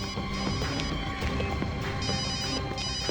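A mobile phone rings faintly in the distance from inside a parked car, its repeating ringtone tones heard quietly over a busy background.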